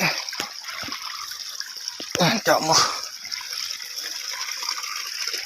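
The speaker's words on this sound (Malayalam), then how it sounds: "ഇതിൻ്റെ ഉള്ളിൽ നിന്നാണ് ഈ വരുന്ന വെള്ളം കണ്ടോ" Steady trickling water flows out of a landslide-hit hillside among loose large boulders, a continuous close wash with someone talking over it partway through.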